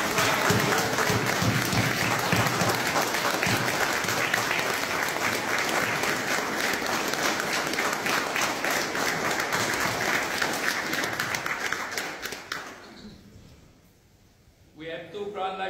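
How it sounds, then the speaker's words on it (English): Sustained audience applause for Masonic guests, a Grand Lodge officer from California and his wife, fills a hall loudly and evenly for about twelve seconds, then fades out with a few scattered claps near the end. "Let's give them all a round of applause."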